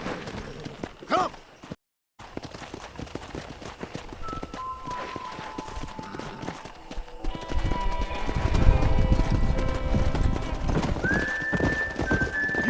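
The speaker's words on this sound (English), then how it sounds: "there's a pack of wild horses nearby" Pack of wild horses galloping in Red Dead Redemption, with rapid clip-clop hoofbeats thickening into a loud rumble, whinnies rising over the running, and a brief dropout early on.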